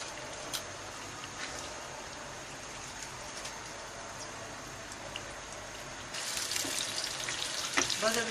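Onions frying in ghee in a pot for haleem, a steady bubbling hiss that grows louder and denser for the last couple of seconds.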